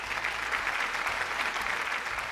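A studio audience on the Malayalam game show Super Bumper breaks into dense, sustained applause, loud and even for a couple of seconds with no voices over it.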